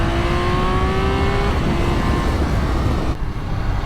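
Engine of a Triumph Speed Triple 1200 RR motorcycle pulling hard through quick-shifted gears, a loud continuous rising drone with stepped pitch changes, close up and steady, with no talking.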